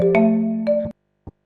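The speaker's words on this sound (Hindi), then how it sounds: "ये अननोन नंबर से किसका कॉल आ रहा है?" A mobile phone rings with an incoming call: two bursts of a tonal ringtone melody, clear and close, then a short silence broken by brief faint knocks.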